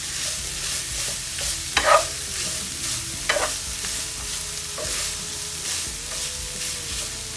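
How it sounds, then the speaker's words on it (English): Fajita onions and peppers sizzle steadily in a hot pan while being stirred, with a constant frying hiss broken by a few louder scraping stirs, close up and without talk. "I'm going to give this a stir. Hope y'all can hear me. I know it's loud."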